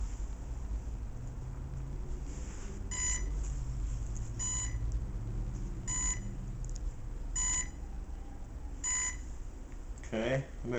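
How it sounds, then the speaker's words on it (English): An RC car's electronic speed control arms after the main battery is plugged in through a current sensor, giving a series of five evenly spaced electronic beeps over a steady background hum, followed by a brief rustle. "So we'll plug the current sensor into the main battery, and you'll hear the speed control arm."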